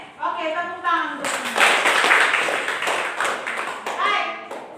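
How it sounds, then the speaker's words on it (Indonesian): A classroom of students breaks into brisk group clapping during a chemistry lesson, the claps following a child's speech and continuing for a few seconds as voices return near the end. "Oke, tepuk tangan dulu"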